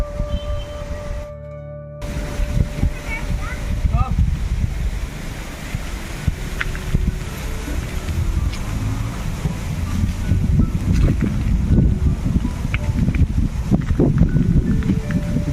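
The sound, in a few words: strong wind blowing before rain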